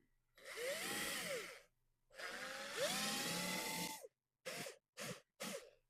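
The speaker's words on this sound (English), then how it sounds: "So now we'll drill a little bigger." A power drill boring a larger hole in a plastic storage tub whirs in two long bursts, its pitch rising and falling as it bites, followed by three short quick pulses; close and loud.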